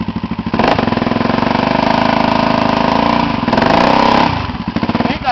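A motorcycle engine idles loud and close on a dirt trail, a steady throbbing putter that swells slightly mid-way before settling back, with no voices over it.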